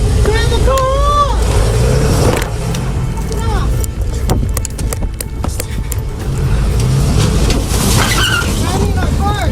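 A car engine revs and roars at a Del Taco drive-through in Riverside County, California, as the driver rams other cars. It sounds loud and chaotic, with tire noise and people shouting over it throughout.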